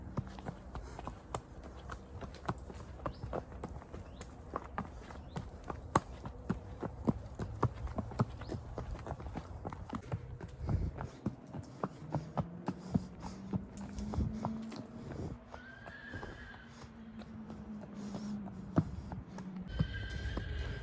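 A horse gives a long, loud neigh near the middle, set among repeated close hoof clip-clops at a trotting rhythm, with a low hum behind; no speech.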